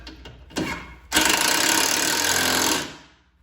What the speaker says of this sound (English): now you're gonna reinstall the bottom 3 bolts, also with the T27 Torx Bit